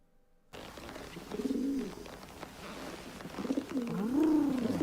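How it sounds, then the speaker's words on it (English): Pigeons cooing in soft, rolling bursts, two clear phrases a couple of seconds apart against a low background murmur, fairly close and unaccompanied by talk. "Dan, can you understand what the pigeons are saying?"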